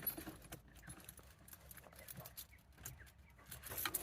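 Volvo keys jangle on a crowded keyring in quiet, irregular metallic clinks and rattles, close by and faint, with no one talking.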